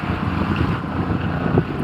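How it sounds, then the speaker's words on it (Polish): Steady, buffeting wind roars across a sailboat heading out of Hel harbour on the Baltic. It forms a continuous low rumble with slight gusting swells and no talk. "wiatr jest całkiem przyjemny"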